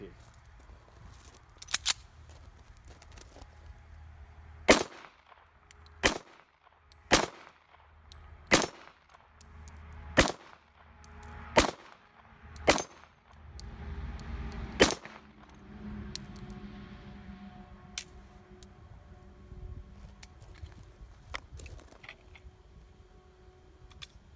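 A Sig Sauer P220 Elite pistol fires .45 ACP rounds in a string of sharp, loud reports, roughly eight shots spaced a second or so apart, on an outdoor range, followed by quieter handling noises.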